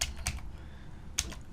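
Typing on a computer keyboard, with a few quick, faint key clicks in two short clusters against a quiet room background.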